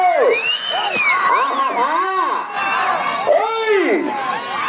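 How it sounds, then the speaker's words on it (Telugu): A dense crowd at a bull pulling competition in Gangadonakonda village, during the six-teeth category, shouts, whoops and cheers continuously up close. Overlapping rising and falling yells keep the noise loud throughout. "చివరి సెకండ్ వరకు విజిల్స్ రావాలా, స్పందన కేకలు."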